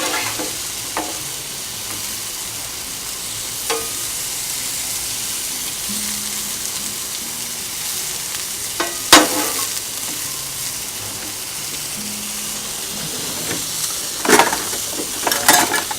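Pork chops and squash sizzle steadily on a Blackstone griddle, a continuous crackling hiss broken by a few sharper spatters and scraping stirs near the middle and end.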